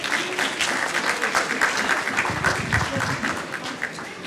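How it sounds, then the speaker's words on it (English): Loud, steady applause from an audience at a live hackathon event, dense clapping filling the whole stretch without a break. "Please give them a round of applause."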